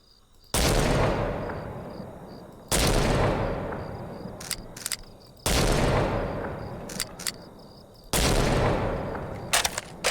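Sniper rifle shots ring out in a zombie video game, four loud cracks with decaying echoes spaced a few seconds apart, and small clicks from reloading between them.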